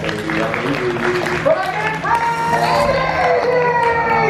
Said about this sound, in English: Folks, big round of applause!